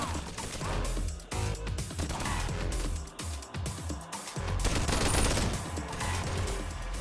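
Turrets firing in a Bonelab mod video game, in a room filled with omni projectors, as loud, dense bursts of rapid gunfire and impacts that keep going with only brief dips.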